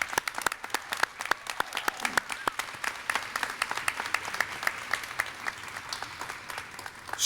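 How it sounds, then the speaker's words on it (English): Applause for EKG certificate award winners from a rural school innovation zone at a high school pinning ceremony: a room of people clapping steadily for about seven seconds, with individual sharp claps standing out at close range. "Give them a big round of applause."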